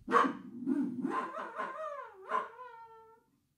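A small dog barks in a series of close yaps and whining, yelping calls, with a rising, drawn-out whine near the end.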